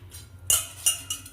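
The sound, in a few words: rice being added to boiling milk in a pot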